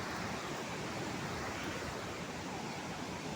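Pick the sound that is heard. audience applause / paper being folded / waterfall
waterfall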